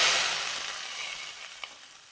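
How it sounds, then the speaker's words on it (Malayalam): Fried onion tempering with mustard seeds poured into a dried shark curry gives a bright, hissing sizzle that begins loud and slowly fades, with one small pop near the end. No one speaks over it. "ഇനി നമുക്ക് കറിയിലേക്ക് ഒഴിച്ചു കൊടുക്കാം."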